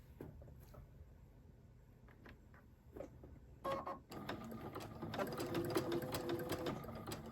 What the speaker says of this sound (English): And now I'm going to begin my free motion embroidery.